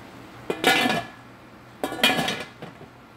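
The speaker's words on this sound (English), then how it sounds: "Now we're going to put the lid on and just allow it to cook." A metal lid set onto a pot of cooking greens, giving two close clattering clanks of metal on metal, each ringing briefly, followed by a small tap.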